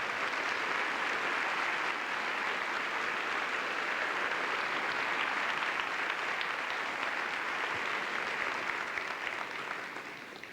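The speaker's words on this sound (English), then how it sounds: "I think they deserve a round of applause for doing a great job" An audience applauds student performers at a school concert, a steady, dense wash of clapping that holds for about ten seconds before tapering slightly at the end, with no talk over it.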